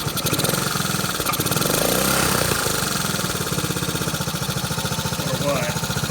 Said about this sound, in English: See there, the idle speed just picked up a little bit.